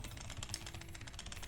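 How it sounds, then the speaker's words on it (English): Rapid, furious typing on a computer keyboard, a dense run of quick clicking keystrokes filling the whole moment at close range with no voices. "I think my poor keyboard is gonna have typing rage."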